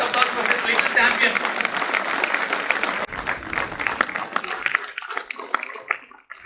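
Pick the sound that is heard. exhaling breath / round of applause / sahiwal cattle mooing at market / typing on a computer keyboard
round of applause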